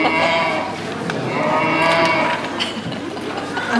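Cow moo in a pantomime staging, a long low lowing call sustained for several seconds, fairly loud and close with little else around it.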